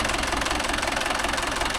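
Mahindra Arjun Novo 605 tractor engine running steadily at close range, a loud, even diesel knock and rumble with no voices over it.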